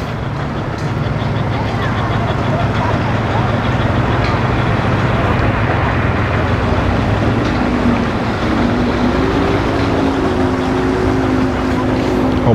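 A hydrospore boat's engine drones steadily on the water, loud and continuous, with a rising tone near the end as another craft comes in fast; wind and a voice sit in the background.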